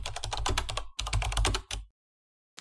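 Rapid, close clacking of keys on a computer keyboard while code is being typed, two dense bursts of keystrokes followed by silence.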